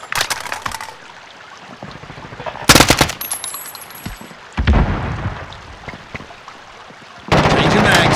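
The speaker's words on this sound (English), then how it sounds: "Enemy sentry gun active." A sentry gun in Call of Duty: Modern Warfare fires loud rapid automatic bursts, broken by quieter gaps and other gunfire, with occasional spoken game callouts underneath.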